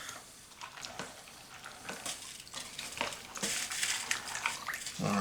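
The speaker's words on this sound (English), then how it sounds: "I'm going to add the carrots, the onions, and the celery. There we go. Give that a good stir." Carrots, onions and celery are stirred in a soup pot for ham and bean soup. Close, uneven scraping and sloshing strokes sit over a low sizzle, growing busier toward the end, with no talking.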